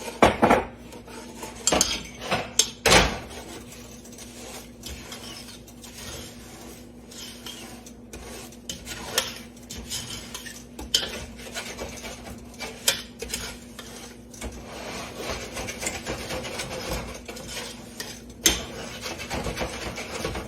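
Sugar is stirred into melted butter in a pan with a spatula for caramel cake icing, producing close, repeated scraping and clinking against the pan at an uneven rhythm, with a few sharper knocks.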